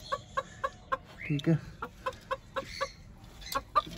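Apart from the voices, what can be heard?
rooster clucking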